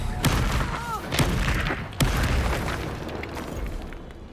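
Reducto spell blasts in Hogwarts Legacy combat, several sharp booming bursts in quick succession over a dense rumbling game mix.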